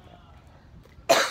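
One sharp cough bursts out near the end, close and loud, after a moment of near silence.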